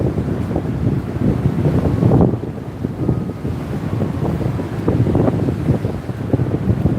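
Wind-driven waves on Lake Michigan in Chicago during a snowy March day, a loud continuous rush of surf and gusting wind buffeting the microphone, no voices.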